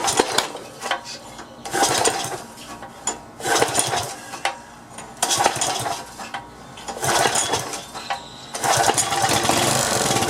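A DR brush trimmer's small gas engine is pulled over in repeated bursts of cranking, with rattly mechanical clatter and a brief sputtering catch; loud and close, no talking.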